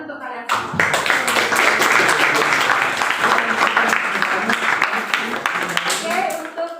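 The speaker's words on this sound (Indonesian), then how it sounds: "tepuk tangan dulu untuk kalian semua" Students in a classroom applaud together, a dense, steady burst of clapping that starts sharply and holds at full loudness for several seconds before thinning out at the end.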